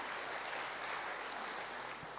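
An audience at a meditation talk applauds to welcome a speaker, a faint, steady wash of distant clapping that runs evenly without a break.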